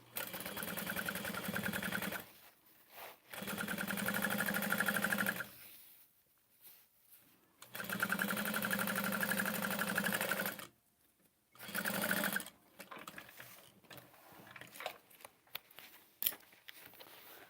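Sewing machine top stitching a bag, running in several loud bursts of two to three seconds separated by pauses, with quieter handling clicks and fabric rustles toward the end.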